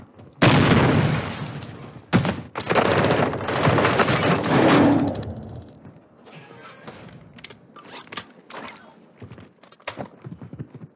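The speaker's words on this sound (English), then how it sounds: "He grenaded." Grenade blast in the online shooter Warzone 2, a loud booming explosion with rumbling debris, followed by a second burst and then scattered clatter and impacts fading out.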